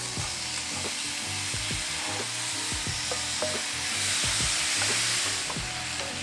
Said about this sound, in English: Make sure you're stirring this constantly because you don't want to overcook your shrimp.